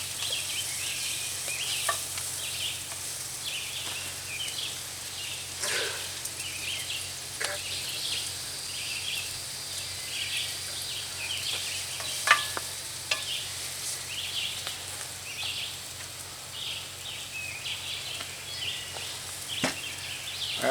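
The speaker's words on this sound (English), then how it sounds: "So I've got an onion and a half. I'm going to sweat this down for a few minutes." An onion and a half sweating down in a pan at an outdoor camp cookout, giving a steady soft sizzle with occasional faint clicks and stirring scrapes throughout.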